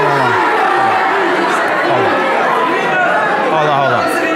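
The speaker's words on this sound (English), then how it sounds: "I just want to start off with everybody shouting out where you're from." Crowd at an annual Islamic conference shouting out their home places all at once, a loud dense mass of overlapping voices and chatter with a few higher calls poking through.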